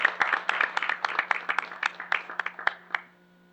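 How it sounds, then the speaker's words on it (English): A modest round of applause at a school board meeting rings out for about three seconds of distinct, fairly close claps before stopping abruptly, leaving a faint steady hum. "If we can give her a round of applause."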